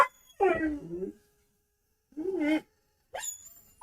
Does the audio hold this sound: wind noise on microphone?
no